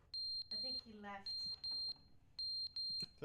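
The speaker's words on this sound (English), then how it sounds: "the smoke alarm's going off." Smoke alarm beeping in the video game The Stanley Parable, sharp loud electronic beeps in pairs and triplets with short gaps, with a voice speaking briefly between them.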